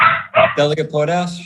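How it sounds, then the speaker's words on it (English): During an online county assembly meeting, a dog nearby gives several sharp, close barks and yips, mixed with a person speaking. "sorry about the dog"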